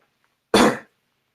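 A single short, sharp cough bursts out once in an otherwise quiet indoor setting, close to the microphone and not followed by any talk.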